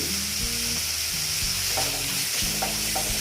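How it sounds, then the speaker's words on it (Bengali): Shol fish frying with salt and sugar in a pan, a dense steady sizzle with a low humming tone and several stirring scrapes, close and continuous. "দিয়ে আমি দেখো এটাকে ভালো মতন কষিয়ে নিচ্ছি"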